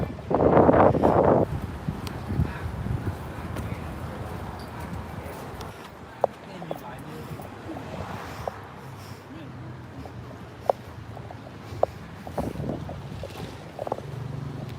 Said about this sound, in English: Too much wind.